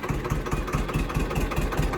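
A tractor engine idles steadily at low rpm, a continuous low rumble with a regular pulsing beat, close and fairly loud with no talking.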